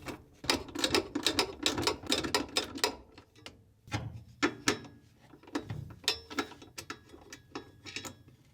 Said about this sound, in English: using a 10mm socket, remove these two bolts on the support bar